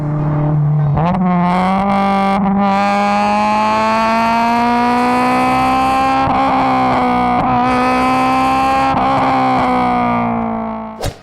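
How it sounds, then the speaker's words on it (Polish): A Honda B18 1.8-litre naturally aspirated four-cylinder engine revs hard and steadily, its strained, buzzing harmonic tone climbing slightly and holding high for about ten seconds, loud and close, with brief dips between pulls. "trzeba przyznać, że ten silnik B18 to prawdziwy dzikus"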